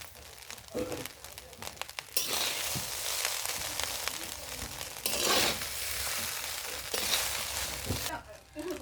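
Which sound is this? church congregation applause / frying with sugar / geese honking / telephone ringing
frying with sugar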